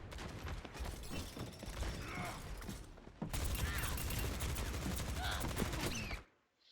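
Rapid gunfire from the Overwatch video game comes in two dense, sustained bursts of crackling shots separated by a brief lull, with faint mechanical clicks mixed in.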